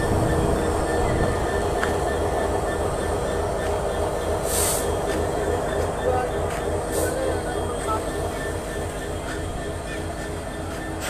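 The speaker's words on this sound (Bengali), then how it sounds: "লোকোমোটিভ হিসেবে যুক্ত আছে 6639 আমেরিকান জায়ান্ট।" A train with locomotive 6639 American Giant at Phulbari railway station rumbles steadily and close, with faint metallic squeals and ticks over the continuous drone.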